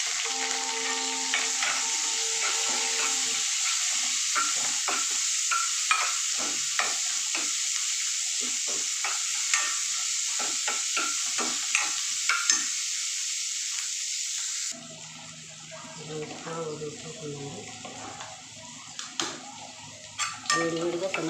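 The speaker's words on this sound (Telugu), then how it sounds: "ఇప్పుడు ఉల్లిపాయ, కరివేపాకు, అల్లం, పోపు దినుసులు కలిపి మనం తాలింపులో వేస్తాము." Onion, curry leaves, ginger and tempering spices sizzle in hot oil with quick stirring scrapes, then the hiss drops sharply and softer stirring and clatter continue.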